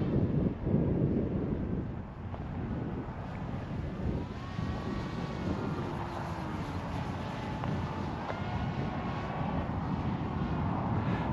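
A folded-cardboard plank-style RC plane with a 550 mm wingspan passes overhead, its faint electric motor whine rising and falling beneath steady outdoor wind noise.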